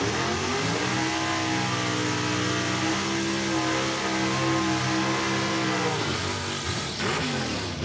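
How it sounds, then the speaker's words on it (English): Big-block drag racing car engines rev loudly and steadily at a raceway, a continuous dense roar with rising and falling pitch, close by and alone without talk. "Sounds like a couple of big blocks under the tower right now."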